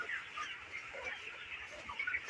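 Broiler chickens on a poultry farm cluck and murmur as a steady, fairly faint flock chatter with no talking.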